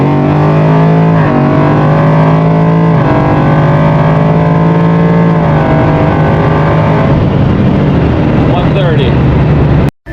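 A Ford Fox-body Mustang with a swapped Coyote engine accelerates hard from inside the car, with a loud continuous engine drone rising in pitch through repeated shifts, and people talking over it.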